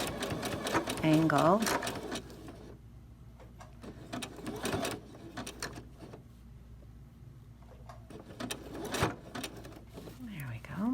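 A sewing machine stitches a T-shirt quilt, running in short bursts with pauses as the fabric pivots around a corner with the presser foot lifted and lowered, while a person talks quietly over and between the stitching.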